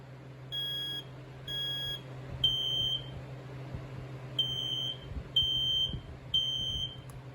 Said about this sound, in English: Here's the FireX AD ramp-up smoke alarm.